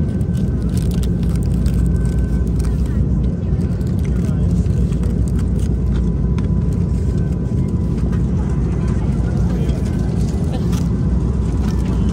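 Airplane cabin noise during flight, a loud, steady broadband rumble and hiss that runs unbroken throughout, with faint voices talking underneath.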